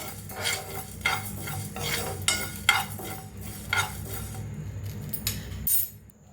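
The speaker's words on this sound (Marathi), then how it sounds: "आता ह्याला तिन्ही मुळीला भाजूया जास्त नाही भाजायचं जरा हलकसं गरम करायचं आहे" A spoon stirs a spoonful of mustard seeds being lightly dry-roasted in a pan, giving repeated scraping clinks at a steady rhythm over a faint background hum, with no talk.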